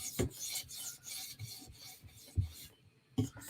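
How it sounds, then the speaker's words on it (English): A knife blade is drawn across a 400 grit stone on a TSProf Kadet sharpening system, giving a soft, dry rasping scrape in several strokes with small knocks and short pauses between passes, close and quiet. "I usually do 2 passes of 400 grit to try to like get rid of the burr on the second pass"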